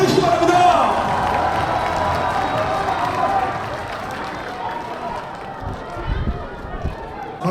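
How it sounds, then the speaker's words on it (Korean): A large crowd applauds and cheers at a Democratic Party concert in Gwangju. The roar is dense and sustained, eases somewhat midway, and a voice speaks over it. "큰 박수를 보내주시기 바랍니다."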